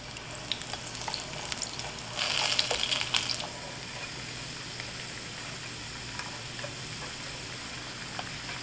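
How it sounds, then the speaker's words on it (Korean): Potato pieces deep-frying in oil while a sirloin steak garnish is prepared, giving a steady crackling sizzle that swells into a busier burst for a moment and then settles back to a constant fizz. "이렇게 튀기면서 중간중간 색깔 봐주시고"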